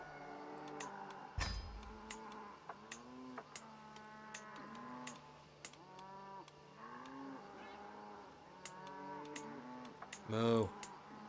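Cattle moo repeatedly in the video game Elder Kings 2, drawn-out lowing calls layered over one another at moderate distance, with ticking clicks and a brief thump scattered through, no speech.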